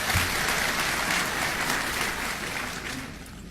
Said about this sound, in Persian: تشویقشان کنین شورای ولایتی.